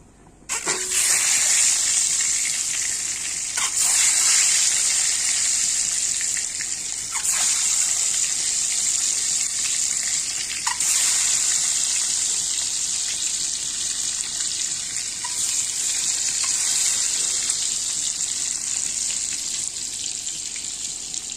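Eggs frying in hot oil with turmeric in a wok, a loud steady hiss and sizzle that runs throughout with small crackles, no talk.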